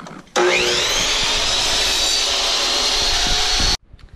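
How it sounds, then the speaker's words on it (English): A chop saw slices through barnwood paneling during an accent wall install, one continuous loud whining cut of about three seconds that starts and stops abruptly, with no talking. "So he's just using a chop saw to cut the wood to the right length."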